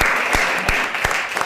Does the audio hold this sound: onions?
no